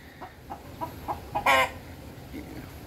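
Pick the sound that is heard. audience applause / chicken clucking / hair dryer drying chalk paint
chicken clucking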